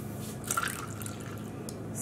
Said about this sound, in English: I am going to cut it with water because it is